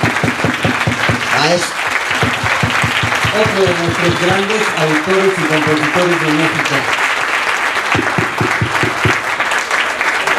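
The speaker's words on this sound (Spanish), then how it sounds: "Por favor, un aplauso" An audience claps for composers at the Fonoteca Nacional de México, with continuous applause running under someone speaking over the crowd.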